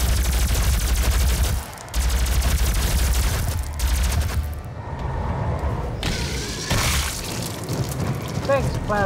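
In DOOM (2016), a plasma gun fires in rapid, dense volleys amid loud game combat noise, with a brief drop in the firing and a player talking over parts of it.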